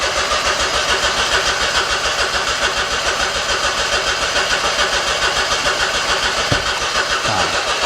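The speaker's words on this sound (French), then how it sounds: "Vas-y, essaye de démarrer, mon jeune." A Smart Brabus that has broken down for over a year cranks repeatedly without catching, its starter churning in a fast, even rhythm for several seconds, up close and loud, before a brief sputter near the end.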